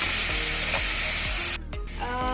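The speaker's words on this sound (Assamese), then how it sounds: "তেলটো উলিয়ালৈকে ভাজিম" Ground masala frying in hot oil in a pan while making paneer butter masala, giving a steady close sizzle with a few stirring scrapes; the sizzle softens briefly partway through before continuing.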